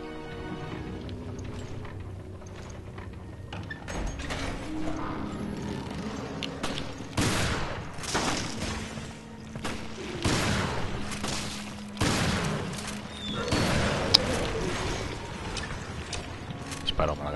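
Gunfire and booming weapon blasts from the video game Resident Evil Revelations HD, coming in bursts of sharp shots over a dense, noisy game soundscape with mechanical clanks, loudest from the middle onward.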